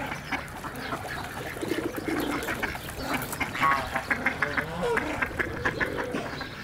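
Repeated nasal quacks from a drake duck, fairly close, coming in irregular bursts over steady outdoor background noise.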